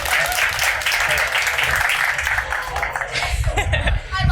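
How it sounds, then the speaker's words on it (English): An audience at a New York release party claps, cheers and laughs as a singer comes on stage, loud and continuous, with voices shouting over the noise. "So please give a round of applause for Johnny."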